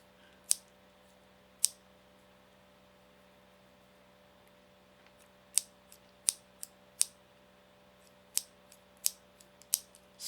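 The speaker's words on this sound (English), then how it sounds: "I'm very good at playing the scissors." Scissors snip in sharp, isolated clicks, a few spaced far apart and then a quicker cluster, close to the microphone over a steady low electrical hum.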